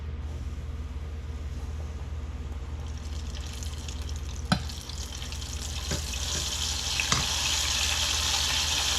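Battered, flour-coated seafood in a fried seafood and oyster dish crackles steadily in hot oil, close and continuous, with a few sharp clinks and a brighter sizzle building toward the end.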